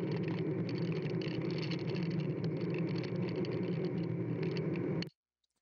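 Steady, dense road and engine rumble inside a moving car, recorded through the small built-in microphone of a cheap children's camera, continuous and fairly loud with no talk, then cutting abruptly to silence near the end.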